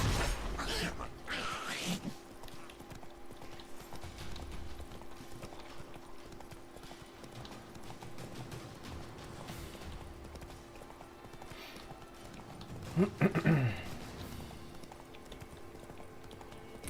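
Roach, a horse in The Witcher 3, trots along with faint, regular hoofbeats under quiet ambience, then a brief louder burst of hoof clatter near the end.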